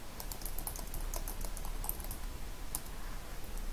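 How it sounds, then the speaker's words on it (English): Typing on a computer keyboard into an online word processor, a steady run of quick, light keystroke clicks heard up close and faint against low background hiss, with no talking. "So I can type anything I want."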